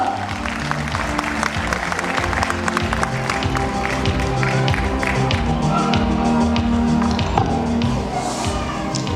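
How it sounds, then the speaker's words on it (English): An audience applauds a guest at a formal gathering, dense steady clapping that holds at an even level throughout, with some music or room tones underneath. "A big round of applause for sir."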